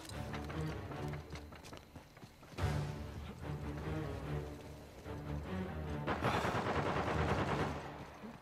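Rapid gunfire from a teammate in Uncharted 4 multiplayer crackles in bursts of sharp repeated shots, with a louder volley near the end over a busy game background.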